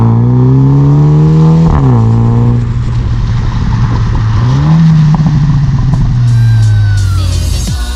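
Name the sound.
MINI JCW car engine starting up and revving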